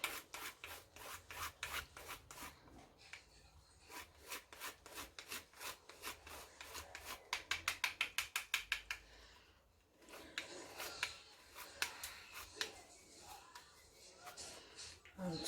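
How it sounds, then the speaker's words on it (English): A chocolate bar rasped against a grater over a dish, with bursts of quick rhythmic scraping strokes, a fast flurry in the middle, and a person talking between the passes. "this chocolate bar. And I'm grating it everywhere"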